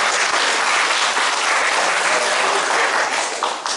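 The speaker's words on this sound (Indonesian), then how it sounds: "Tepuk tangan untuk beliau berdua." Dense, loud applause from an audience at a gathering, steady clapping filling the whole stretch and tapering slightly at the end.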